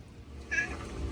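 An orange tabby indoor-outdoor cat lets out a single short, faint meow outdoors, rising briefly from low background noise.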